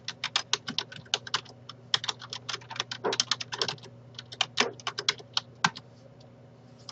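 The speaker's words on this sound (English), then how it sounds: "So I'm using my number pad to type these." Quick, irregular bursts of key taps on the number pad of a full-size computer keyboard, close and crisp, with short pauses between runs and no talking.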